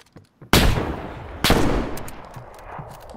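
A single loud gunshot from a large-calibre weapon in the survival game DayZ, cracking sharply, then a second heavy shot about a second later, each leaving a long echoing tail. The shots are close and clear, with no talk.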